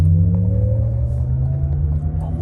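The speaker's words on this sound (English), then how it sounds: "Almost sounds like a gasoline engine." A Cadillac Lyriq electric car driving on a bumpy race circuit gives off a low, steady engine-like rumble with a faint rising whine, heard from inside the cabin and close.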